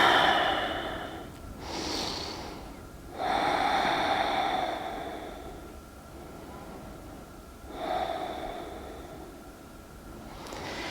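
Slow, deep breaths drawn in and let out during a guided stretching exercise, each long, airy inhale and exhale heard close up, with a few breaths spread over about ten seconds.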